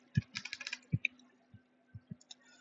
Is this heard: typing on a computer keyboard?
yes